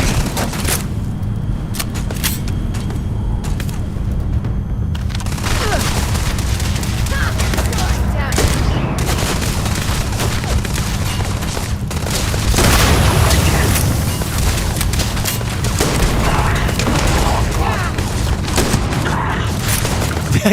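Video game gunfire and explosions rattle almost nonstop, with dense bursts and heavy booms piling up loud and close. A louder swell of blasts arrives midway, and a player's voice talks over parts of the action.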